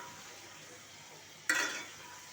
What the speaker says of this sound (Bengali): এখন আমি করলাগুলো কষিয়ে নেব।